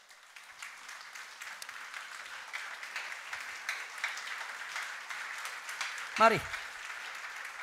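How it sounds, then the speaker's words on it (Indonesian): Applause from a standing church congregation during a Christian sermon builds up as a dense, fairly faint wash of clapping, while a brief voice cuts in near the end. "Bangkit berdiri, tepuk tangan yang keras buat Tuhan"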